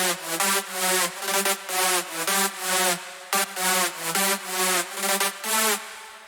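A bright EDM synth lead from the Nexus plugin in FL Studio plays a rhythmic chopped melody of short sustained chords for a Maddix-style drop, loud and alone with no talking.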